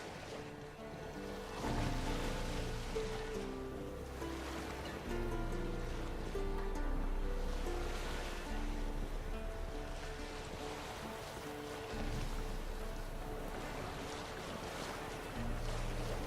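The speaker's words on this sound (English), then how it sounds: "Sails fluttering." In The Witcher 3: Wild Hunt, steady wind and water wash around a sailing boat, sails fluttering, with a continuous rushing, flapping texture and low rumble throughout, moderately loud and without talk.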